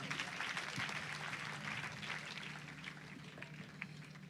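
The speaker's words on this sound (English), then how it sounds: "thundering round of applause for that performance." Sustained applause from a summit audience after a performance, a dense steady wash of clapping heard from a distance with a faint low hum underneath and no talk.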